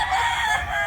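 A rooster crows nearby in a short, loud, strained call, heard alone without talk.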